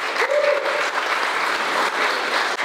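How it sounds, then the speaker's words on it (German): An audience at an art exhibition opening in Berlin breaks into warm, steady applause for a helper standing beside the speaker, a dense and even clapping that holds throughout, with a brief vocal tone near the start. "ein Applaus für Dragan, würde ich sagen"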